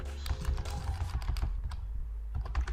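Steady run of computer keyboard typing while entering an SAP ABAP select query, with dense, close key clicks in quick irregular bursts and no speech.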